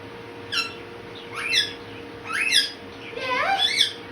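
A pet Indian ringneck parrot squawks nearby indoors, giving four short, shrill, rising calls spaced about a second apart, the last one longer and more drawn out.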